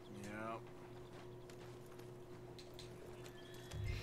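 Horse hooves clip-clopping at a steady walking pace in Red Dead Redemption 2 game audio, with a brief whinny near the start and a constant background hum.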